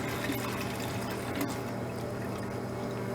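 Liquid pours steadily from an old detergent bottle into a container, a continuous close splashing gush that holds at an even level throughout, with no talking.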